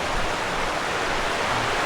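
Stream water rushing over rocks, a steady broadband wash that fills the whole span without pause, close and fairly loud, deep enough to stop a walker from crossing.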